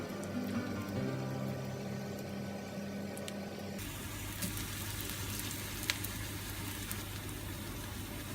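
Jalebi batter hisses and sizzles in hot oil in a pan over medium heat, a steady crackling fry that shifts in texture as more batter is piped in, with no talking.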